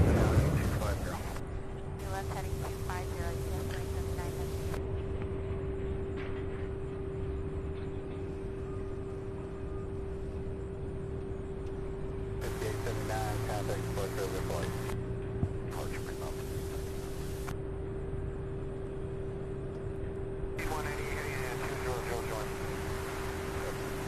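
An ERJ 145 jet takes off at Louisville International Airport, a steady distant roar with a sustained whine rolling on beneath someone talking over it.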